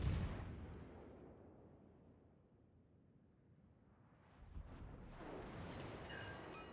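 Naval video game ship guns firing, a loud booming salvo at the start that fades to quiet rumble, then a second burst of heavier cannon fire near the end.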